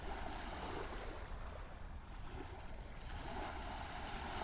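A ferry crossing from Mojiko to Karato rides over waves, giving a steady, loud wash of water and wind rumble with no break and no voices.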